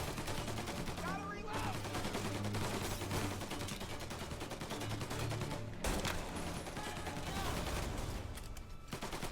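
Tommy gun fire in Mafia: Definitive Edition rattles out in dense, near-continuous bursts, loud and close, with a short lull midway and a voice faintly under the shooting.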